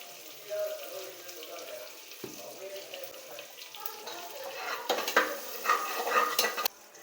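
Grated ginger, green chilies, curry leaves and asafoetida sizzle in hot ghee for pongal, a soft crackle that builds as a spoon stirs and scrapes the pan, faint and close.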